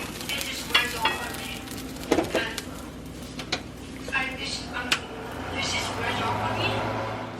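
Tuna in oil with cheese, onion and pepper frying in a pan, a steady low sizzle with scattered crackles and clinks of a utensil, with a voice talking over it.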